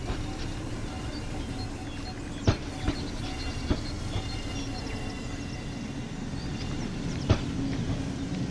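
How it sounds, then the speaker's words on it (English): A train in Train Sim World 5 on the Mittenwaldbahn route pulls into a station: a steady low rumble with a few sharp metallic clicks and clunks from the wheels, moderately loud and continuous, with no talking. "Your train has arrived."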